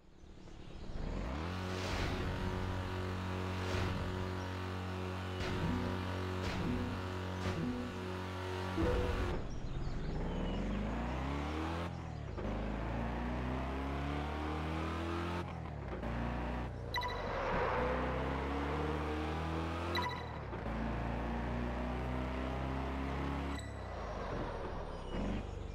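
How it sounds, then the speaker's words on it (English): Car engine in Test Drive Unlimited 2 steering through a bend, steady drone then shifting, rising and falling revs with occasional brake hisses and abrupt cuts, moderately loud and continuous without talk. "Drive your vehicle successfully through the bend and control your brake."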